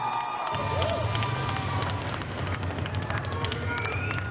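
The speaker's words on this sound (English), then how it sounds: "Let's hear it for both your warriors in the cage." Crowd at a cage fight event cheering and applauding the fighters after a split-decision bout, a dense steady roar of shouts and claps filling the whole stretch at close range.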